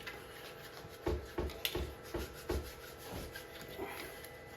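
A cloth rubs loose dirt and grime off the plastic case of an original Nintendo NES. It makes about six soft, rhythmic scrubbing strokes, close but faint, with no voices.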